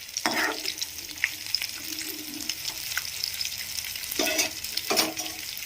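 Tempering spices fry in a pan, a soft steady sizzle with occasional stirring scrapes and light clinks, fairly quiet and close, with no one speaking.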